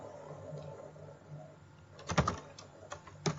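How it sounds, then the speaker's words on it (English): Fingers tapping on a computer keyboard while entering text, quiet scattered keystrokes at first, then a quick cluster of sharp clicks and a few more taps, close and alone. "So we are typing text."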